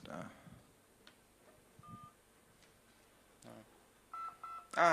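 Arduino-controlled cubes at an art installation trade short electronic beeps and tones, sparse and intermittent, with a cluster of louder chirps near the end over a quiet room background.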